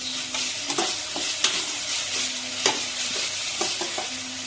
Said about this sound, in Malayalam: മുളക് പൊടി ചേർത്തൊന്ന് ജസ്റ്റ് ഒന്ന് ഫ്രൈ ചെയ്യുക